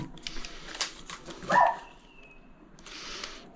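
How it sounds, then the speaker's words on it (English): A single sharp dog bark sounds close by around the middle, amid the clatter of DIY work cutting a power point hole, with quieter scraping before and after. "Dog's barking, doesn't like the sudden noise."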